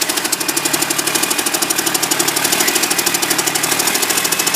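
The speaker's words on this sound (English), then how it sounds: "Pretty nice sounding Cummins." Cummins diesel engine running on a jerry-rigged test stand, a loud steady rapid knocking clatter at an even idle, close up with no talk.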